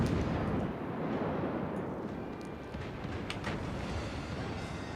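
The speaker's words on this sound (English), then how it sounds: "Let's get some guns firing." The guns of the USS Helena, a Tier VII American light cruiser in World of Warships, rumble in a dense, continuous low barrage of distant booms and rolling thunder, with faint crackles on top.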